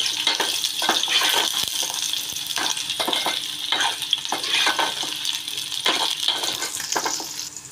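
Finely chopped onion added to garlic in hot oil crackles and hisses loudly in a pan, with rhythmic scraping strokes as it is stirred.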